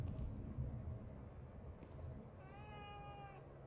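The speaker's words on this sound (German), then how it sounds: "Eine Katze." A cat meows in a horror video game, a drawn-out tonal call rising over a low rumbling ambient drone, fairly faint and alone.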